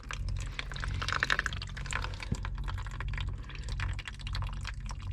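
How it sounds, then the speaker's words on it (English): Antifreeze drains out of a boat generator in a steady, trickling pour with faint drips, heard close with constant engine-room hum beneath. "So this is just draining the antifreeze."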